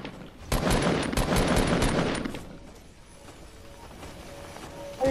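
Rapid automatic gunfire in the game Fortnite rattles loud and close for about two seconds, then fades into quieter background game sounds with a faint thump at the end.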